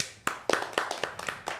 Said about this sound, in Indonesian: sekali lagi tepuk tangan buat Amo.